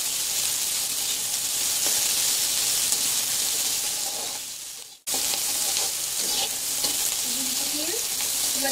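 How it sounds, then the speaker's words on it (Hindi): Garlic cloves and onions fry in a pan for a shahi paneer with a loud, dense continuous sizzle that briefly drops out midway, then resumes alongside faint stirring scrapes. "लहसुन की कलियां को हमने फ्राई करने के बाद में प्याज डाल देते हैं।"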